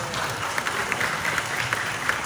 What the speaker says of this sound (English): Come on, everybody. Clap your hands.